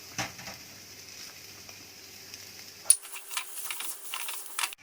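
Potato masala for a ragi masala dosa filling sizzles quietly in a pan over low gas, a faint steady hiss joined partway through by light clicking stirs and scrapes, with no voices.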